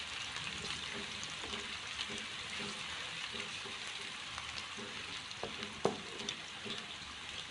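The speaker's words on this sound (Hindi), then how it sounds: "प्याज को अलग से हमने ऑयल के अंदर इसको फ्राई करना है" Onions frying in oil in a pan for a black pepper chicken karahi, giving a steady, soft sizzle throughout with a few light clinks of a utensil near the end.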